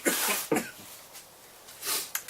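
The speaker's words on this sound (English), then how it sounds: "before I cough up a lung." A person coughs in a few harsh, close bursts, with a short pause, then coughs hoarsely again.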